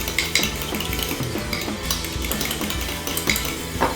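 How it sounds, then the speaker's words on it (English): A utensil stirs wasabi into a green bean dressing in a bowl, with repeated close clinks and scrapes against the dish in an uneven rhythm. "I'm going to mix it all together"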